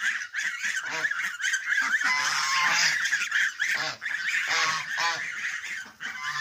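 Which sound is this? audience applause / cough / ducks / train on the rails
ducks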